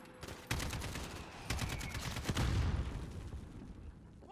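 Gunfire in the Call of Duty: Modern Warfare campaign, a rapid series of sharp reports and booming blasts, some close and loud, overlapping with heavier rumbling fire before fading out.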